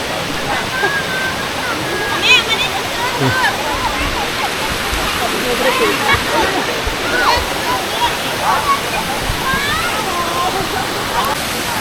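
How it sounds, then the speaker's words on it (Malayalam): The multi-tiered Kuang Si waterfall in Laos roars in a steady broadband rush of falling water, with scattered splashes and distant voices of people mixed into the constant flow. "ഇതിപ്പോൾ മൂന്നാമത്തെ ലെവലിലുള്ള ഒരു വാട്ടർഫോളാണ്. വെള്ളം മുകളിൽ നിന്ന് ഇങ്ങനെ പല തട്ടായിട്ട് ഒഴുകി ഒഴുകി വരുന്ന ഒരു സെറ്റപ്പാണ്."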